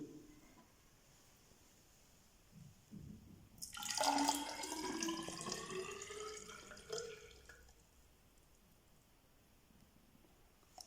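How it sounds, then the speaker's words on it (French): Water poured into a graduated cylinder standing on a scale during a density lesson, a close, light trickling splash of a few seconds that rises and then tapers off, alone in a quiet room. "en versant l'eau"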